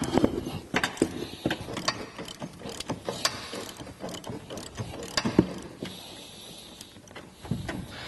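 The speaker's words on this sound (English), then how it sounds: "What we're using here is an 18mm socket with a 3-inch extension." Ratchet with an 18mm socket on a 3-inch extension loosening front bumper bolts on a Jeep JK, rapid close clicking pawl runs interrupted by clanks and pauses.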